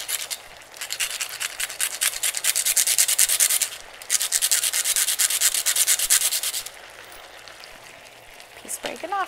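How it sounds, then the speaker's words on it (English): Fresh cinnamon is grated in rapid, rhythmic rasping strokes, two long bursts of close scraping separated by a brief pause. A quieter stretch of lighter rubbing follows. "I think it's worth it to take the time to go ahead and grate the cinnamon fresh."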